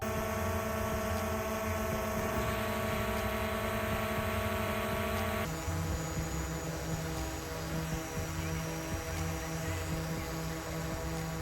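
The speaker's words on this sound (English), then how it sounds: "When comparing these two drones, there's definitely a sound difference, so I'll let you guys have a listen now." DJI Air 2S drone flying, a loud steady whining propeller buzz with tonal harmonics, continuous and close, with a slight shift in pitch partway through.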